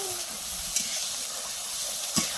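Ginger and garlic sizzle steadily in a hot pan for a buffalo meat curry, a constant hissing fry with a couple of faint scraping knocks from stirring.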